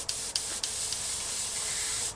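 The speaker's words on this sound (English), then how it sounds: "We're spraying this very low" An airbrush sprays paint onto a fishing lure at low pressure in a steady fine hiss, opening with three short puffs before settling into one continuous spray.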